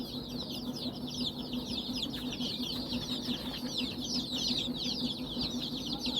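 Pure Gavran country chicken chicks in a brooding setup peep constantly in a dense, high chorus, with a steady low hum running underneath throughout.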